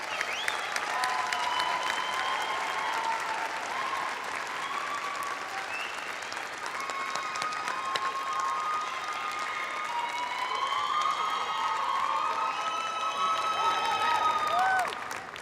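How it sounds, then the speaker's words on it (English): Long, steady audience applause fills a hall at a pre-commencement ceremony for a college of public health and social justice, sustained and even, with scattered cheers and whistles riding over the clapping. "again with another round of applause"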